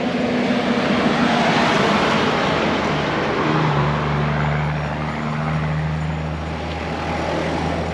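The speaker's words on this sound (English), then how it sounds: "I'm gonna wait for the bus to go by here." A bus rolls past on a street in Leon, Nicaragua, a loud broad roar with a deep engine drone that shifts pitch as it goes by, close and filling the whole scene.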